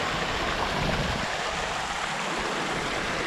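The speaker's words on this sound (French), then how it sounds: "Le suivi de la petite rivière qui est là" Small mountain stream rushing over rocks on the Mont Thabor trail, a steady close broadband wash of flowing water with no voices.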